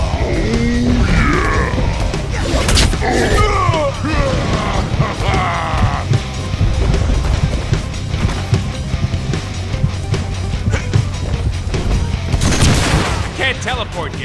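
A big gun fires in the Deadpool video game. Rapid bursts of gunfire and booming shots mix with yells and grunts, and a character talks over the noisy, continuous combat.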